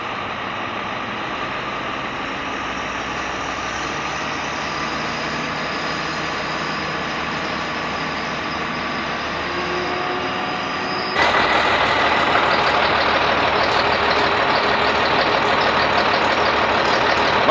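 A crane engine runs steadily while lifting a granite block, a loud continuous diesel drone that jumps louder and harsher about two-thirds of the way through as the load is hoisted, with no talking.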